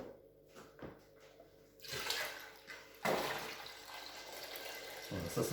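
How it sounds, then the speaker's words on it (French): Two litres of milk pour from a punctured carton into a container, a soft, close gurgling stream that swells and continues for several seconds in a quiet kitchen. "Alors, je mets mes 2 litres de lait."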